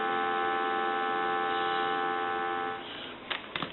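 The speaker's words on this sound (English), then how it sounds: "I'm going to give you some dial tone" Steady telephone dial tone from a Western Electric Princess touch-tone desk phone hums evenly for nearly three seconds, then drops away into quiet line noise and a few handling clicks.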